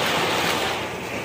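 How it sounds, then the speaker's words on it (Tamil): Heavy rain pours down steadily outdoors during a village dance event at Tharagampatti, a dense, continuous roar of falling water that stays loud and even throughout. "மழை பெஞ்சினே இருக்கு"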